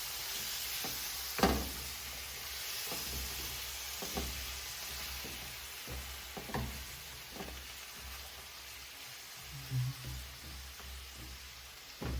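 Pumpkin pieces fry in a pan with a steady, soft sizzle and a few louder pops and stirring scrapes, and no one talks.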